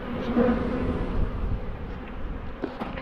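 A dense honeybee swarm buzzes continuously nearby, a steady droning hum with individual bees passing close now and then.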